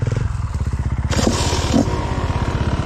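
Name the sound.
enduro motorcycle doing a wheelie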